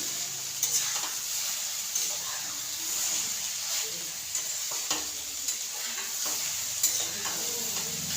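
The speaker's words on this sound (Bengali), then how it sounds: "তো দেখো লাল লাল করে আমি ভেজে নেবো এটাকে নিয়ে।" Food frying and sizzling in a pan, browning until reddish, with a steady hiss and occasional stirring scrapes, fairly close and moderately quiet.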